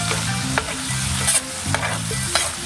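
Pork sotanghon, glass noodles with pork, being stirred in a frying pan: a loud, continuous sizzle broken by rhythmic scraping and clattering strokes of the utensil, with no voices.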